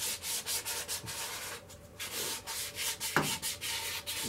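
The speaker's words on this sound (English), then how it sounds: "Just a light sanding." Steady scratchy sanding of a green poplar wooden bowl, light rhythmic back-and-forth rubbing strokes at close range, continuing without pause and without any talking.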